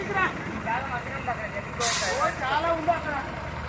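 A bus pulls in on a traffic-jammed village road, its air brakes releasing a sharp hiss midway amid engine rumble and nearby voices.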